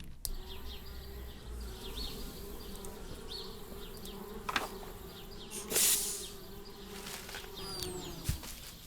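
Bees buzz steadily in the Anna's Quest video game, a continuous close hum running the whole time with a few faint clicks and short bright accents.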